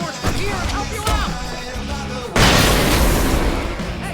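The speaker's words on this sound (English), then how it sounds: "I can set off more of the fireworks from here and help you out!" Fireworks going off during a fight in Alan Wake Remastered, with popping bursts and crackles under loud game action, then a big booming blast about halfway through that rumbles and fades.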